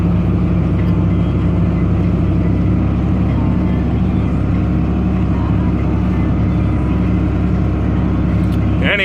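A John Deere tractor pulls a manure spreader on a farm, spreading chicken manure, its engine a loud, steady close-up drone throughout, with a brief voice near the end.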